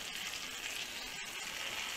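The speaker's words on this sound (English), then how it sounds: "frying a little bit to give a really nice crust for the meat before we put in the oven." Lamb shoulder sears in a hot pan to build a crust before roasting, giving a steady, even sizzle and hiss of frying fat that holds at one level throughout with no talking.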